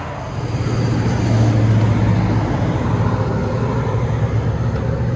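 A Dodge Magnum RT with a 5.7L HEMI V8 and glass pack exhaust with rear delete and 4-inch tips rumbles loudly and close, a deep steady drone that swells early and holds.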